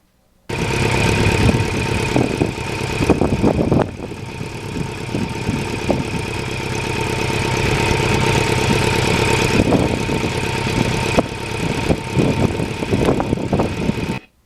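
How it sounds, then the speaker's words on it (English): Restored 1989 Kawasaki Ninja 750R motorcycle engine runs steadily and loudly up close with a continuous droning hum and faint whine, its pitch rising and easing slightly while riding, with wind noise underneath. "Oh, but I love the sound of this bike."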